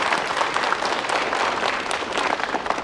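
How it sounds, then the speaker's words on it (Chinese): Warm applause from a gathered crowd of paper-making workers welcoming Master Jiang, a steady dense wash of clapping sustained for a few seconds with little talk. "现在呢，就让我们用最热烈的掌声欢迎江大师给我们提出"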